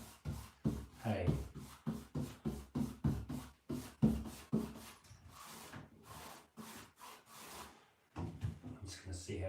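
A paint roller works over a green screen wall in repeated rhythmic strokes, a close scraping, rubbing swish with brief pauses between passes and a short break near the end.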